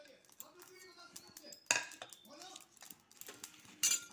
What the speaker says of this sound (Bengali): এটা এমনি শুকনায় ভাজবো, তেলের সাথে না